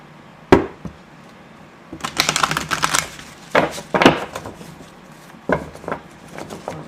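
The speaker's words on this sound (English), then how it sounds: "I'm going to do corner shuffle." A sharp tap, then bursts of crisp riffling as a trimmed tarot deck is corner shuffled, with a few pauses and softer taps between the flurries.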